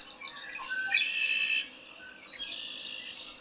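A male songbird sings close by: a quick series of bright, high chirps and trills, then a short pause before a second thin warbling phrase, heard alone against quiet background.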